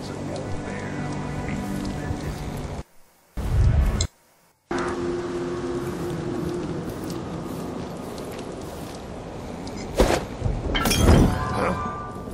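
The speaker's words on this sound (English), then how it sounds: "That sounded like broken glass." Glass shatters in Dishonored 2 as a sharp crash over a steady ambient bed, followed later by a second, louder burst of breaking and scattering debris.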